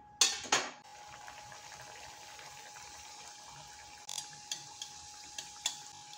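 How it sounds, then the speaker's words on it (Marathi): MTR kachori made with matar, tuvar and rajma fry in hot oil, giving a steady close sizzle broken by sharp clinks and knocks from a utensil as they are turned. "आलटून पलटून छान अशा कचोरी आपल्याला तळून घ्यायची आहे."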